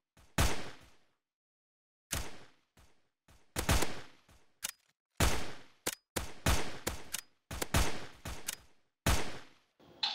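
Gunfire in the SleepWalkers mobile zombie survival game, fired in bursts and single shots between players: loud, close reports in irregular clusters with short gaps of silence, no talking.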